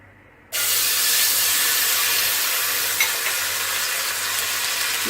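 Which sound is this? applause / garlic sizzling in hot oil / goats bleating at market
garlic sizzling in hot oil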